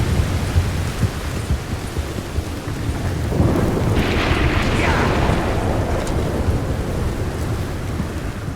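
A thunderstorm in the video game Red Dead Redemption 2 gives a loud, continuous roar of heavy rain, with a deep, rolling swell of thunder building in the middle and fading back into the downpour.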